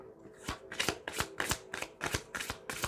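Close, quiet handling of a deck of cards, with eight evenly spaced slapping riffles in a quick steady rhythm.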